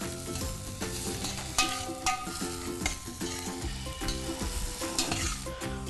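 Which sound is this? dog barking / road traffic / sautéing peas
sautéing peas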